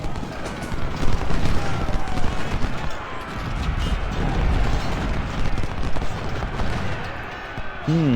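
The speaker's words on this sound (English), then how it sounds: "The artillery doing some work from this position." Artillery fire in the Civil War strategy game Ultimate General: Civil War comes as continuous rumbling booms and crackling battle noise, dense and loud throughout, with no voices.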